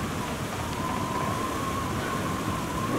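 Steady broadband rushing wash of a waterfall in The Long Dark video game, continuous and fairly loud with a faint tonal hum running through it, no talk over it.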